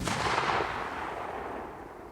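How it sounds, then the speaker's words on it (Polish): A TXB203 Koneser triplex firework cake fires outdoors, giving a loud broadband burst that rolls on as a long sustained, decaying rumble with no voices. "Stara kostka strzela elegancko jak nowa."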